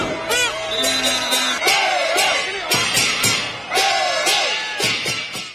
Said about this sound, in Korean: 중국은 열광적인 축구 응원으로 유명하다